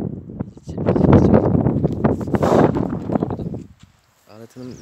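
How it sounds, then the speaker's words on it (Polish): Strong wind gusts by a lake, buffeting loudly and unevenly in close bursts for several seconds before dropping away, with a brief voice heard at the end. "Ale ten wiatr mocno wieje."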